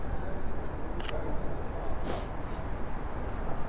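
A Sony A7 III camera shutter clicks several times, short crisp snaps over a steady outdoor rain hiss, close to the microphone.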